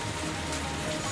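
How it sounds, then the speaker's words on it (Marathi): Steady rain falls in Nagpur during an ongoing monsoon spell, a dense, even hiss of drops on surfaces that holds at a constant level throughout, with no voices. "नागपुरात पावसाची रिपरिप सुरूच आहे"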